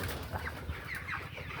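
Soft clucking and squawks from a small broiler chicken being grabbed on a poultry farm, several short calls close by at low volume over a faint background hum.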